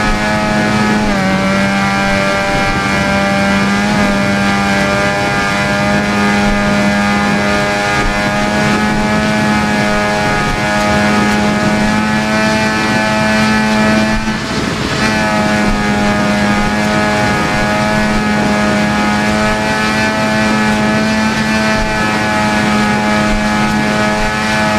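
Honda RC30 racing motorcycle in the RIDE video game, its engine holding a loud, steady high-pitched whine with rich harmonics throughout, with a brief dip around the middle before it resumes at near-constant pitch.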